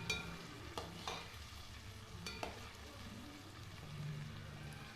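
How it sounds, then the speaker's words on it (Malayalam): Chicken curry is stirred in a pan, with soft scraping strokes and a few sharp clinks against a low sizzle, faint and close with no voices. "ഇനി നമുക്ക് നന്നായിട്ട് ഒന്ന് ഇളക്കി കൊടുക്കാം."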